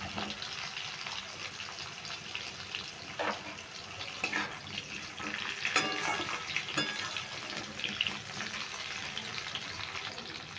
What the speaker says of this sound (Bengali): পেঁপেটা একটু নেড়ে চেড়ে হালকা করে ভেজে নিচ্ছি